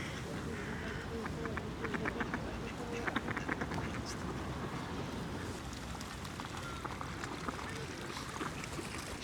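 Ducks quack on and off at a park pond in winter, against a steady outdoor wash of water and ambient noise, fairly faint and distant.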